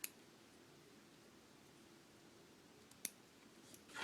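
A pair of scissors trims the tassel ends on a metal and glass cabochon bookmark, with just two faint, crisp snips separated by a few seconds against a quiet hiss.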